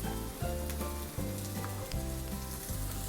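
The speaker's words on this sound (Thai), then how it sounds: "พอหอมปุ๊บเราก็เอากุ้งที่เราเตรียมไว้นะคะ ลงไปรวนเลย" Shrimp hit a hot pan with chili and garlic and stir-fry in a close, steady sizzle, broken by a few quick stirring scrapes and pan knocks.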